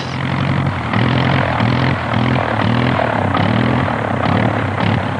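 A 40 hp engine on a 1910 Hanriot monoplane, an old canvas, bamboo and wire aircraft, runs steadily with a loud, continuous rough drone and a pulsing low throb, close and alone.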